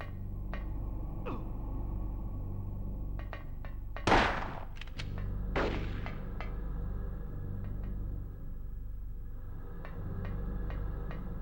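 Two sharp gunshots ring out in Silent Hill for the PS1, a loud broadband crack followed about a second and a half later by another, over a steady low drone and scattered faint game clicks.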